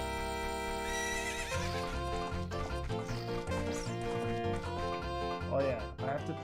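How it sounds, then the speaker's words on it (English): A horse whinnies in the video game Zelda: Ocarina of Time, set against the game's continuous music, with a clear neigh rising near the end of the passage. "we're gonna have to race to get this horse."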